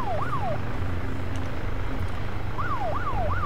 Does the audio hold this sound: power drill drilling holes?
no